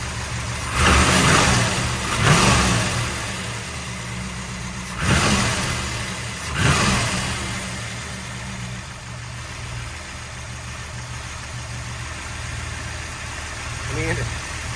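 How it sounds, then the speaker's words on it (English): Third-generation Pontiac Firebird Formula with a stroker engine and 36 lb injectors revs in four sharp throttle blips over a rough, steady idle, each swelling loudly then falling back, heard up close. "Let's throttle up, you can hear it."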